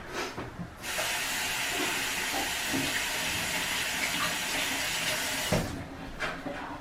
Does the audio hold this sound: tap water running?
yes